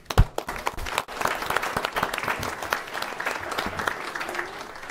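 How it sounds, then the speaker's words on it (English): A room at a county commissioners' meeting breaks into applause for animal shelter staff, a steady round of individual claps from a modest crowd, close and moderately loud, sustained throughout. "So give them a round of applause if you would."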